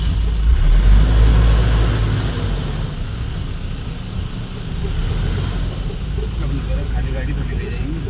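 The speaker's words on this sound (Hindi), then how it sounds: "चलो भाई उधर खींचते हैं गाड़ी को" A loaded truck's engine revs steadily as it pulls forward, a loud, continuous rumble that swells early and then holds, with people talking nearby.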